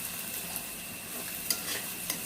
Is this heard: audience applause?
no